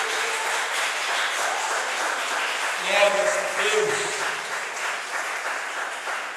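A church congregation applauds in a steady, dense wash of clapping that fills the room, with a voice speaking over it midway.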